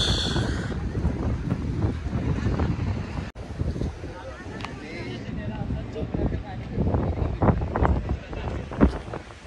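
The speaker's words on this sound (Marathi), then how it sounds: "मित्रांनो वारा खूप येतोय, माझा आवाज येतो की नाही माहीत नाही" Strong sea wind at Bandra Fort in Mumbai, by the rocky shore, buffets the microphone with a continuous, loud, gusty rumble under a person talking throughout.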